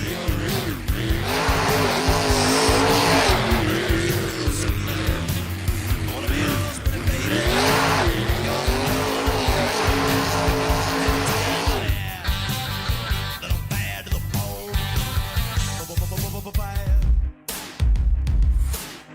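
Grave Digger monster truck at a Carnage Tour show in Liwa, UAE, its engine roaring loud and continuous with tire squeals and skidding, crowd and arena noise beneath, ending in a few abrupt crashing thumps.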